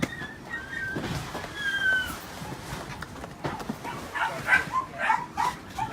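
Rescued dogs in the cabin of a rescue flight give scattered yips, whimpers and short barks of varying pitch, some close and some farther off, over a low hum, growing busier toward the end.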